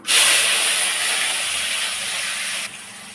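Finely chopped large onion dropping into hot oil with bay leaves for a Tamil-style chicken fry, giving a loud, steady broadband sizzle that bursts up at once, holds, then eases a little near the end.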